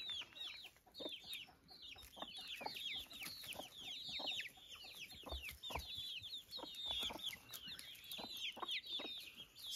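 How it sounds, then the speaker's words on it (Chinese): A mother hen with a brood of small black chicks on a rural farm: steady high peeping from the chicks with occasional soft clucks, continuous and fairly faint outdoors. "那是带16只小鸡的母鸡，现在只剩6只，6只都是黑鸡啊。"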